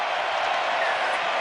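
Rugby sevens crowd at the 2011 Hong Kong Sevens applauding after a try, a steady wash of clapping and cheering heard from a distance.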